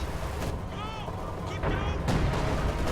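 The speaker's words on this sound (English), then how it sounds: "B4s begin bombarding this position, and this tier 4 structure probably won't last long with 4 B4s firing at it." B4 artillery pounding a tier 4 structure in a video game, with repeated sharp impacts and booms over continuous battlefield rumble, some hits louder than others, mixed with faint tonal effects.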